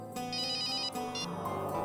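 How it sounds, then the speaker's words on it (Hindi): A phone rings with a bright electronic ringtone, two short repeated trills that sound loud and close. "लगता है किसी आशिक का फोन आया है"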